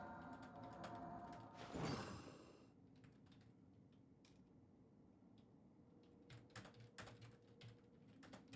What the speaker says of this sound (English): You probably heard that I was typing.